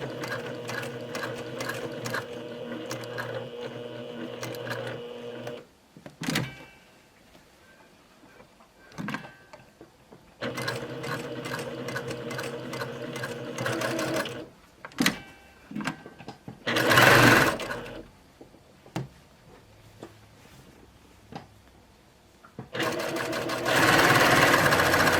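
A sewing machine stitches a cardigan along the seam ditch in several loud, steady bursts of rapid mechanical whirring, separated by quiet pauses and light handling noises.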